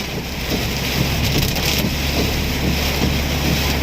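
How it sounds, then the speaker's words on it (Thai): Steady, heavy rain roars without a break in Salaya near Mahidol, Thailand, a dense broadband hiss with low rumbling, loud and close, with no voices. "ฝนตกหนักมากครับพี่น้องแถวมหิดลนี่แหละครับ"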